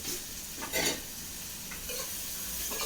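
Fresh curry leaves dropped into hot oil for a fish curry, giving a steady broadband sizzle with a brief louder crackle burst near the start, then continuing spatter and light stirring, with no one talking.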